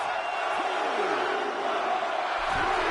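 A virtual arena crowd in the WWE 2K25 wrestling video game roars and cheers in a continuous dense wash, with a commentator's voice briefly heard over it.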